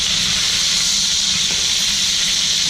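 Chicken pieces sizzle skin side down in a pan, a steady and fairly loud frying hiss that holds unbroken throughout.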